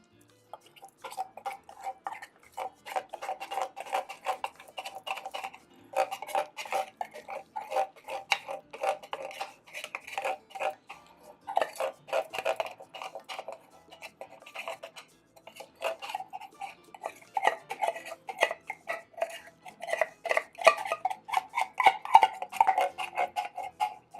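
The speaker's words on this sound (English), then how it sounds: "We'll go ahead and try to stir that out as much as we can." A spoon stirs thick full-fat condensed milk for coquito, making steady, quiet, rapid clinks and scrapes against the bowl that continue without pause.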